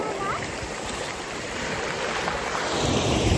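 Sea waves washing onto a beach, a steady close wash of surf and splashing with a slight swell toward the end; faint voices sit underneath.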